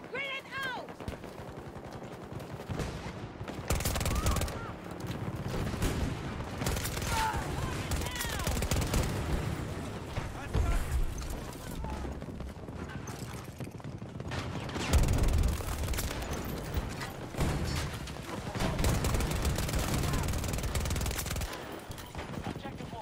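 Sustained bursts of automatic gunfire from a weapon in the shooter game Battlefield 2042, loud and continuous with brief pauses, layered with other battle noise and voices talking over it.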